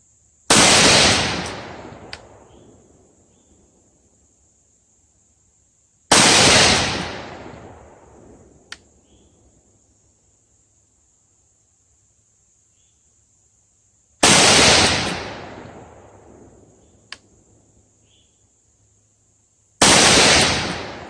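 Four single rifle shots from a gun fitted with a drop-in trigger, each a loud, sharp crack with a long decaying echo, spaced several seconds apart outdoors, with a faint tick during the quiet tails.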